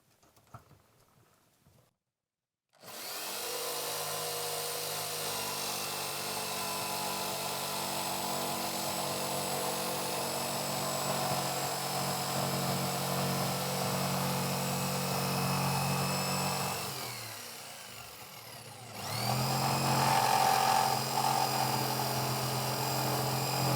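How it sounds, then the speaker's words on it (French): A jigsaw cuts a pet-flap hole in a door, following template marks; the saw starts after a short quiet, buzzes loudly and steadily, pauses briefly, then resumes cutting. "on prend la scie sauteuse et comme on découpe directement sur les marques du gabarit"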